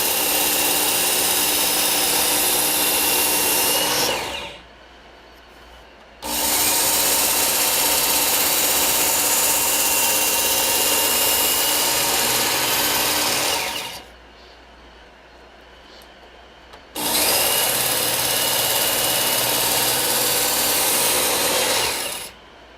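A Work Sharp Ken Onion Edition belt knife sharpener runs as a loud, steady motor-and-belt whir in two long passes, each cut by a pause of a few seconds.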